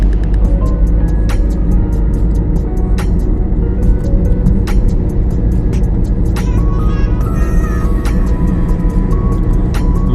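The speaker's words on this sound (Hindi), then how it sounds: "तेज ड्राइविंग।" A car is driven fast with a loud, steady engine and road roar filling the cabin throughout, and faint clicks and rattles sound over the constant drone.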